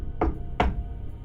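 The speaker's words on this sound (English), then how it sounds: "I ran over to the professor's office and I knocked on the door." Two firm knocks on a professor's office door, evenly spaced and close, each a short hollow thud, with quiet room tone between and after them.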